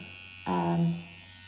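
A permanent makeup machine switched up to speed 6 gives a short, faint electric buzz with a steady hum that starts abruptly, holds for about half a second and fades.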